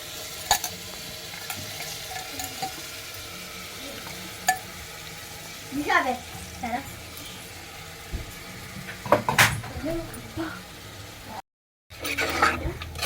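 Mutton pieces are stirred and fried in a pan for a brinjal mutton curry: a continuous sizzle broken by scraping, clattering stirs and a few louder knocks, with a brief silent gap near the end.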